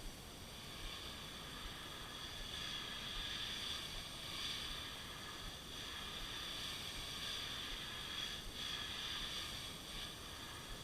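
An airbrush sprays paint lightly onto a shad fishing lure, giving off a steady, soft hiss of mostly air pressure that continues evenly and quietly throughout, with no one speaking.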